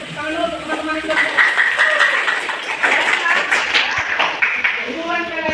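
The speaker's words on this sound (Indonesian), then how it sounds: "Kita kasih tepuk tangan dulu untuk teman-teman yang sudah" Classroom applause from students clapping for classmates during a teaching practice lesson, a steady patter of many hands lasting several seconds, mixed with voices.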